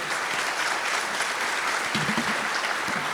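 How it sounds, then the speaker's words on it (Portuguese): An audience at a national road-conservation conference in Brazil gives a steady round of applause, with a few voices faintly heard over the clapping. "Salva de palmas para os dois"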